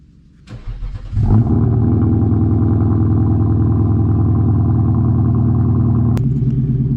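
An Infiniti Q70/M56 engine with a short ram intake cold-starts: it cranks briefly, catches, and settles into a loud, steady, rumbling idle that holds for several seconds before cutting off.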